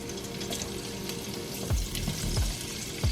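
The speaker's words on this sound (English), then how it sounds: "What I'm going to do now is just add my onion and start to saute my onions." Chopped Vidalia onions sauté in bacon fat left in a pan, a steady close sizzle with soft low bumps and stirring sounds toward the end.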